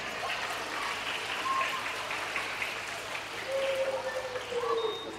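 Audience applause at a kindergarten graduation ceremony, a steady, moderately loud patter of many hands clapping throughout, with faint whistle-like tones over it.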